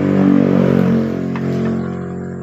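A motorcycle engine idles steadily and loudly up close while its TPS throttle sensor is being adjusted to fix sputtering when cold, a continuous droning hum with slight wavering.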